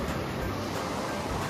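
A hill river of Sarangkot water flows with a dense, steady rushing roar close by, unbroken and without voices.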